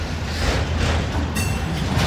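A freight train hauling a long string of autorack cars rolls past close by, a loud continuous rumble of wheels and rattling cars with a faint squeal rising near the end.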